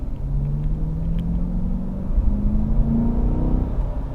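A 2020 Chevrolet C8 Corvette cruises along with a steady low engine drone and road rumble, the engine note rising gradually and holding on a smooth rolling drive, with no voices.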